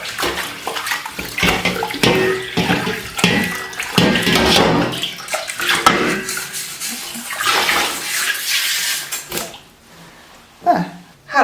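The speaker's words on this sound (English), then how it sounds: "I'll give that a rinse now." Running tap water splashes and gushes as a burnt pan is rinsed in a basin, with uneven bursts of flow and clattering that continue for several seconds before tapering off into near quiet with a last brief splash.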